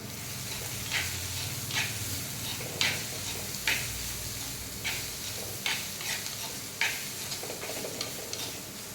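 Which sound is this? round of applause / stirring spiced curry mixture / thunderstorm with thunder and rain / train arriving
stirring spiced curry mixture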